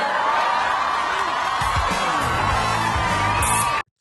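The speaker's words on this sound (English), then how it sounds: "The crowd erupts so loudly that the actors could not continue with their lines" A Friends studio audience erupts in loud, sustained cheering, whooping and screaming, a dense roar of many voices holding steady for several seconds before stopping abruptly.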